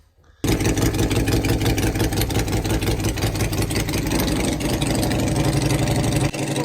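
Harley-Davidson Road King motorcycle engine, running poorly, on a dyno for a baseline pull: a loud, steady roar begins abruptly and holds for about six seconds, then drops off sharply near the end.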